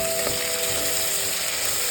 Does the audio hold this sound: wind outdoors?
no